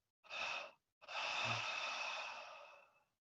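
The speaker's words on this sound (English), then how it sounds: "And throw the breath out." Forceful exhalation during guided meditation breathing, a short breath out followed by a longer sustained sighing exhale, close and quiet with nothing else around.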